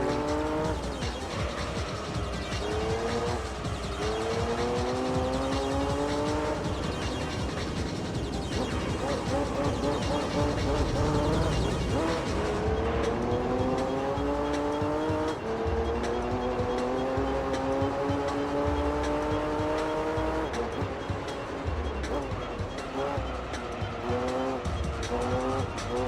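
Race cars roaring in Gran Turismo 3, a loud sustained engine drone that rises in pitch through gear changes, with tire squeal and a voice talking over it.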